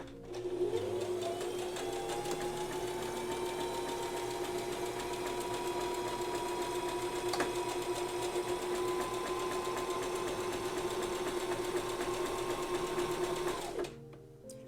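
A sewing machine stitches a buttonhole bar tack, a steady, loud mechanical whir with rapid needle chatter running unbroken for about thirteen seconds before slowing to a stop.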